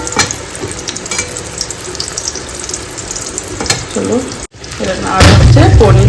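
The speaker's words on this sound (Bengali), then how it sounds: "এখন হচ্ছে বেগুন ভাজা" Eggplant frying in a home kitchen, a continuous sizzle with clinks and stirring, joined near the end by louder running water as from a tap.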